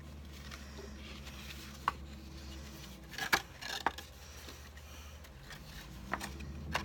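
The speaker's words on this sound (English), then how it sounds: "I'm going to cut off just a smidgen and more" Scissors trim card stock for a handmade birthday card, several scattered faint snips and clicks with a few sharper cuts in the middle over quiet room noise.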